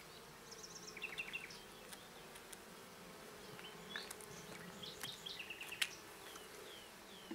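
Honeybees buzz around an artificial swarm hive in May, a soft, constant low hum with scattered passes of individual insects close by, plus a few faint bird chirps in the background.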